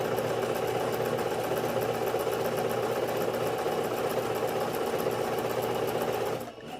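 A sewing machine hums steadily and loudly while stitching ribbon trim onto a tutu, running without pause for about six seconds before stopping abruptly.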